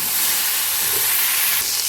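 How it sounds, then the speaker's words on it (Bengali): Cauliflower pieces frying in a pan with turmeric, giving a steady, loud, even hiss that holds from start to finish with no pauses or voices. "দেখো ফুলকপিটা মানে ভাজা ভাজা হয়ে এসছে নরমও হয়ে গেছে"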